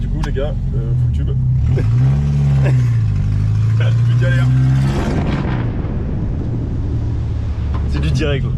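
A Renault 4L on the 4L Trophy rally drones and revs loudly from inside the cabin, its engine pitch rising and falling as it drives, while people talk and shout over the noise.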